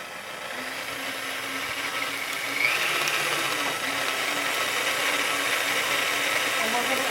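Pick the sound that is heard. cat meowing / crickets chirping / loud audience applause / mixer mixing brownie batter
mixer mixing brownie batter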